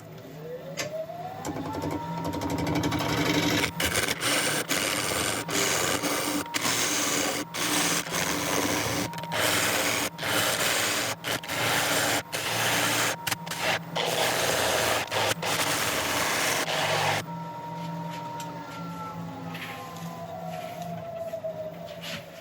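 A woodturning tool is sharpened on a grinder: a steady, loud abrasive grinding that runs for about fifteen seconds, broken by brief lifts off the wheel, then gives way to the quieter whine of the machine spinning down.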